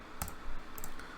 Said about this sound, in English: the chamber spin sound for the moment is just the sound of me running a piece of metal over a computer keyboard